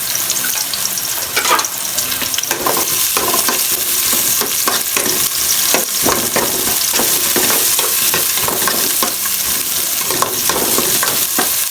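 Garlic and onion sizzling loudly in hot oil in a pan for homemade lomi, a steady bright frying hiss with scraping stirs, close and continuous.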